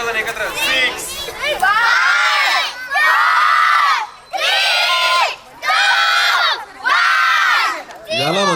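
A crowd of about twenty children at a first birthday party cheer and shout loudly, voices rising in repeated surging bursts with short breaks between them.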